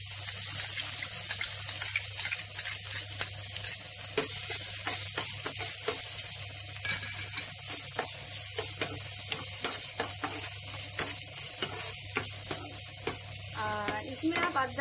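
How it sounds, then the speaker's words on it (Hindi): A bowlful of onions fries in hot oil with cloves, giving a loud, steady sizzle broken up by the scrape of stirring. The sound runs close and continuous throughout. "यह मैंने एक कटोरी अनियन इसमें दे रही हूँ।"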